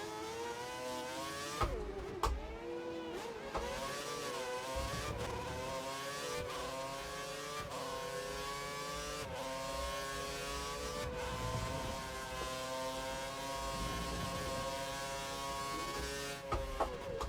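Formula 1 race car engines in the F1 2013 video game at the Korean Grand Prix howl steadily at high revs, with rising and falling pitch sweeps as gears change and other cars pass close by.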